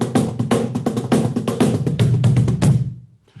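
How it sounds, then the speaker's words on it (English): A cajon drum played by hand in a children's music storytime, a quick run of sharp slaps and deeper bass thumps in an uneven rhythm, close and clear, ending abruptly into near silence. "It's called a cajon drum. And it sounds like this."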